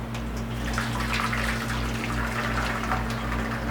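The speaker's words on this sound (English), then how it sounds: "I'm gonna pour water in for my bath." Water poured into a pan to make a water bath for savory egg custard ramekins, a soft continuous splashing stream over a low hum, fairly faint and with no talk.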